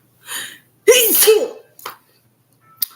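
A sharp sneeze with a preceding intake of breath, loud and close, followed by a brief exhale and a small click.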